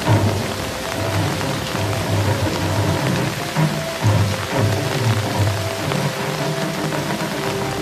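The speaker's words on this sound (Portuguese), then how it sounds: "Uma multidão reúne-se sob uma chuva forte" Heavy rain pours steadily and loudly over an outdoor gathering of a crowd, a dense continuous wash of drops with low rumbling undertones throughout and no clear talk.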